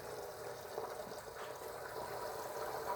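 Water rushes steadily from a small non-self-priming pump during a home brewing transfer, a faint continuous splashing flow with no talk.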